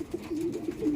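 A racing pigeon at a derby loft in Candon, Ilocos Sur, coos in short repeated low throaty phrases, close and clear with no talk over it.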